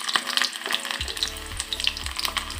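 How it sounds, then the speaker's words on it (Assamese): Onions hit hot oil and begin frying: a close, crackling sizzle with scattered pops and spits, plus a few low clunks from the pan. "তেল গৰম হৈ গ'লে পিঁয়াজ দি দিছোঁ"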